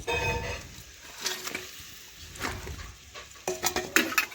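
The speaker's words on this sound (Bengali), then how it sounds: "এখন নাড়াচাড়া করে ভালোভাবে মিশিয়ে নিচ্ছি" Fried katla fish stirred into simmering curry gravy in a pan: a few soft scrapes and metallic clinks of a spatula against the pan, spaced irregularly and close by, over a low bubbling background.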